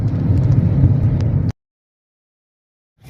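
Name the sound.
strong storm wind blowing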